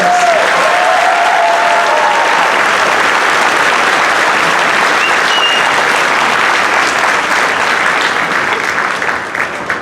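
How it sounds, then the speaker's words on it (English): A crowd at a 2019 high school graduation ceremony gives a loud, sustained round of applause for three speakers, with dense clapping filling the hall and easing slightly at the very end. "Can we give one more round of applause for our three speakers?"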